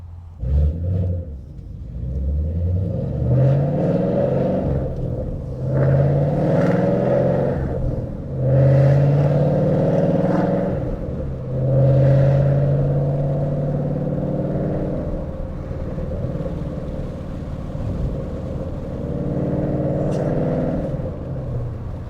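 A loud Ford Mustang GT pulls hard from inside the cabin in a short burst, its deep exhaust rumble rising and falling through repeated revs and shifts over about twenty seconds.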